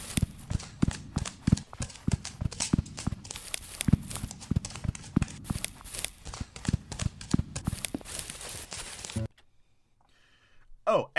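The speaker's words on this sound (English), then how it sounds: "I put footsteps depending on what type of terrain they were walking on" Footstep sound effects for an Undertale animation, varied by terrain, sound as a steady run of crisp, clip-clopping steps, loud and close, before stopping abruptly into near silence with a brief sound at the very end.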